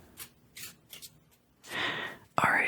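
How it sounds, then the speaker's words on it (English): Quick riffling and papery flicks of tarot cards being shuffled close up, in short bursts with soft gaps between, ending in a brighter snap. "These cards are not difficult to shuffle"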